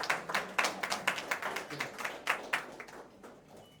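An audience claps at a press meet during a lamp-lighting ceremony, with a burst of irregular hand claps, moderately close and fading out near the end.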